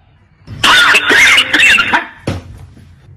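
A burst of harsh coughing up close, two or three rough hacks in quick succession, followed after a short pause by one more cough.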